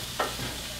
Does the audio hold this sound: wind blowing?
no